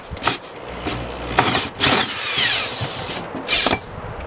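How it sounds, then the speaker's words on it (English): A power drill fitted with a 1-inch hole saw bites through a plastic tote in several short bursts, each a harsh whirring grind with brief pauses between, close and loud. "So I got my 1-inch hole saw and I'm going to drill a hole through this."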